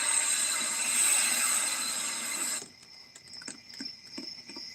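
A train in the Roblox game High Iron gives a steady, bright mechanical drone that cuts off abruptly, leaving faint clicks and tonal hums.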